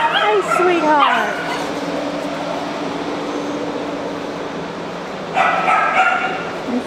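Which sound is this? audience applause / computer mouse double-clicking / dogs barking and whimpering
dogs barking and whimpering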